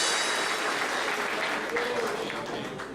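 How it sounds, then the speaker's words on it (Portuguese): A congregation at a church service claps loudly and continuously, a dense wash of applause with voices cheering underneath. "Bem forte as palmas para o nosso Senhor Jesus."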